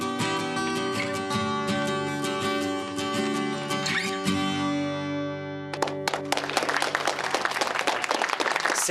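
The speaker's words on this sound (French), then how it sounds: "On applaudit Maggie et Riley bien fort." Audience applause breaks out after a song ends, sudden dense clapping rising loud and close as the sustained music fades out.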